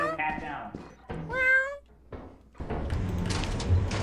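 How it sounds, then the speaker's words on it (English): A cat meows twice, close and clear, with a drawn-out rising call, followed by a thunk and people talking. "I heard a cat. I heard a meow."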